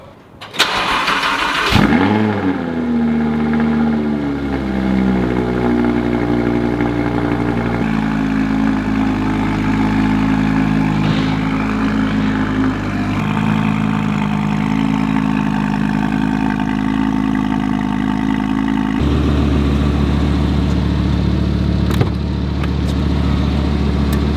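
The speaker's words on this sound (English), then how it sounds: "All right, the final startup on my stock exhaust." An Audi R8 V10 Plus on its stock exhaust cranks and starts with a loud flare of revs, then settles into a steady, close, rumbling idle that shifts pitch slightly near the end.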